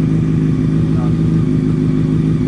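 A motorcycle engine runs steadily at idle, a close, constant low drone with a faint clatter, and a person speaks briefly over it.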